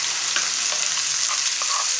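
Tomato chutney ingredients fry in a pan with a loud, close, continuous hiss of sizzling oil and faint stirring clicks, and no one speaks.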